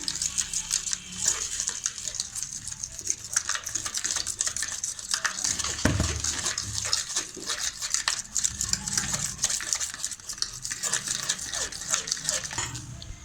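Russian salad sauce with chillies and spices being mixed in a bowl, a steady run of quick scraping and clinking strokes from a utensil, close and moderately loud, with no talking.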